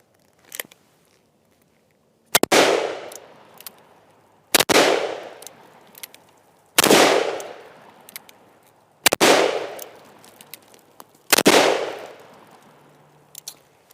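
A Ruger Super Blackhawk .44 Magnum revolver fires five loud, evenly spaced shots outdoors at roughly two-second intervals, each sharp crack followed by a long, decaying echo.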